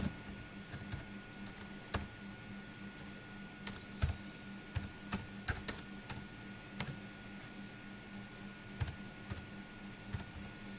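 Keys clack in irregular bursts on a computer keyboard while a search term is entered into a keyword research tool, close and fairly quiet against a steady low hum, with no voices.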